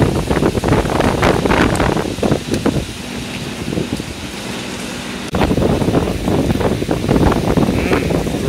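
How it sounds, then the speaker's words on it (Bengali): Strong storm wind from Cyclone Remal buffets the microphone in loud, rumbling gusts, easing briefly in the middle before surging again. "কি ঝড়"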